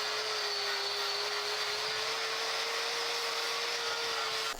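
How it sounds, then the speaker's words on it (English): A power tool grinds steadily at close range as it strips mill scale from quarter-inch steel plate ahead of MIG welding, a continuous high whine with a broad abrasive hiss that stops abruptly at the end. "I'm going to remove the mill scale before I MIG weld this"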